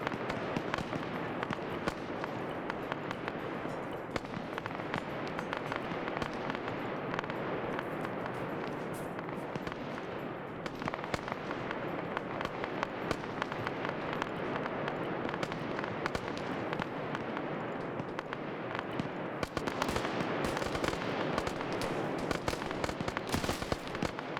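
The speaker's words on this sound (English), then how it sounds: "Anyway, artillery." Artillery and mortar fire in the military game Arma, during a large multiplayer siege of Jadotville: a dense, continuous wash of crackling blasts and rumbling impacts with no talk, growing louder toward the end.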